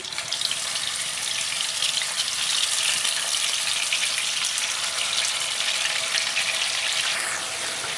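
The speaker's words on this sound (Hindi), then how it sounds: "चिकन को 2-3 मिनट अच्छे से फ्राई कर लेते हैं।" Bone-in chicken pieces for nihari sizzle and crackle in hot oil, a dense, continuous hiss close by with no talking.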